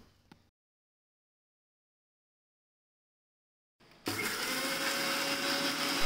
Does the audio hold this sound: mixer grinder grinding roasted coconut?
yes